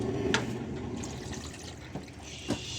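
Water runs and splashes steadily into a cooking pot for chicken tinola at moderate distance, with a few faint clinks and drips over the flow.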